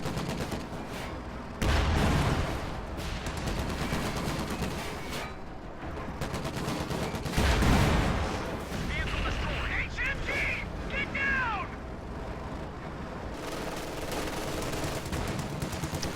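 A World War II strategy video game battle with artillery, including a pack howitzer, and bunkers: continuous rumbling gunfire and explosions fill the scene, with heavier blasts near the start and middle, and a voice talks over the top.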